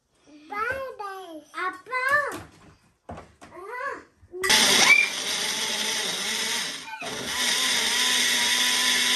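An electric blender whirs steadily for about five seconds while making orange juice in a home kitchen, with a brief pause in the middle. Children chatter and babble just before it starts.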